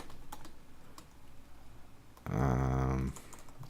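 Fingers tap out quick, irregular keystrokes on a computer keyboard at close range, broken midway by a short low buzzing tone before the clicking resumes.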